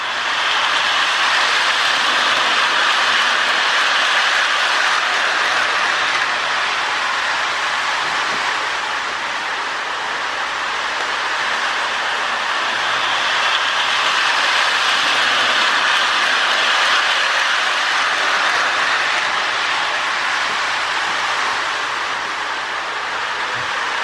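A restored K-Line New Haven Alco model locomotive running on track, giving a loud, continuous whirring rumble that holds steady, close by with no talk.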